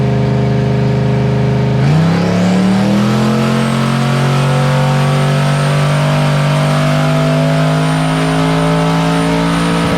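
Hemi engine on a dyno after fuel tuning, boosted around 10 pounds, sweeps up into a loud sustained rev after a short lower-pitched start, holding a strong, rising engine roar with no talk.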